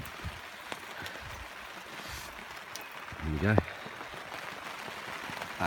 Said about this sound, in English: Oh, this rain's getting heavy.